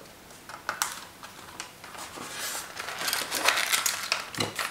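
Cardboard and plastic packaging for a DAGI 602 stylus crinkles and rustles as it is opened, giving a series of close, irregular crackles and taps that grow busier toward the end.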